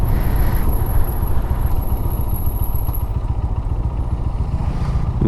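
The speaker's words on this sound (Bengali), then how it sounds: "বাইকের ব্রেক থেকে অনেক সাউন্ড করতেছে" A motorcycle rides along with a continuous rumbling engine and rattling clatter close up, and a high thin squeal from the brakes runs through the first few seconds before fading.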